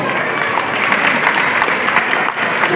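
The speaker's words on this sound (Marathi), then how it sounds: "आपण सर्वजण टाळ्याचा गजर करून आपण उद्घाटन झाला असं आपण एकट्याने जाहीर करूया" Loud, dense applause from a crowd at an English-medium school's annual gathering, many hands clapping steadily throughout.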